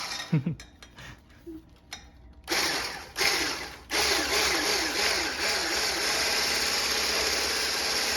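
A blender switches on and mixes French toast batter with a loud, steady mechanical whir and a churning, wobbling motor tone. Softer clicks and handling noises come first.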